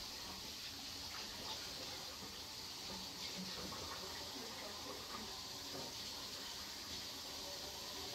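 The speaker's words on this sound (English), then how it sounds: "wash your hands" Tap water runs steadily as hands are washed in a home kitchen before cooking meatloaf, a soft, continuous broadband splash with faint fluctuations and no talking.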